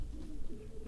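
A racing pigeon coos softly on its return to the loft after the season's final race, a low burbling murmur that runs steadily through the moment, close and fairly quiet with no talk.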